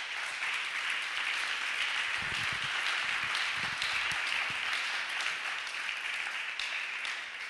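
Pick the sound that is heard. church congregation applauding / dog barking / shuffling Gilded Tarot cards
church congregation applauding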